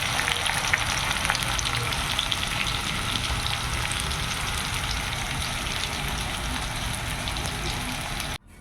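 Food frying in a pan while a home meal is cooked for a village Janmashtami puja, a loud, dense, continuous sizzle like heavy rain that holds steady throughout, then cuts off abruptly just before the end.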